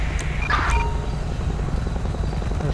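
Air rescue helicopter arriving over Sandy Shores in GTA V, a loud, steady rotor thrum with a fast blade chop that continues throughout, with a short higher electronic tone near the start.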